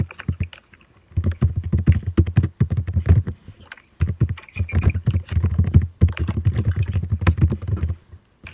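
Keys tapped on a computer keyboard in slow, uneven bursts with short pauses, close and fairly loud, with no talking over it.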